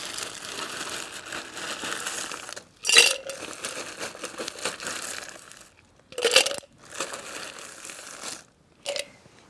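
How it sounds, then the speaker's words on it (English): Ice for a tequila hurricane cocktail crunches and rattles as it is scooped, with grainy rustling stretches broken by three sharp clattering bursts as the cubes drop into the glass. "So I'm going to add some ice right now."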